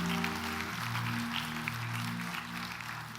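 Applause from a church congregation, a steady wash of clapping that holds for several seconds over sustained musical tones.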